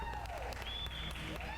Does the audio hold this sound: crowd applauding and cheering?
yes